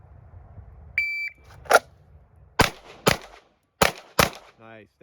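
A timer beep followed by five sharp pistol shots during a draw-and-fire shooting drill, close and loud, in a quick irregular string spread over about three seconds, with quiet between, and a brief voice at the end.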